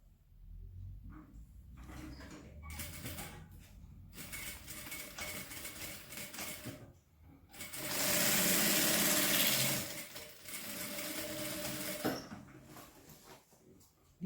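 Sewing machine stitching a wallet, running in several bursts with pauses between them, and a louder, sustained whirring run in the middle, close and alone without talk.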